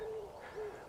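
Two soft, level owl hoots sound a short way off in the cold early morning outdoors, each brief and evenly pitched, with only faint background noise.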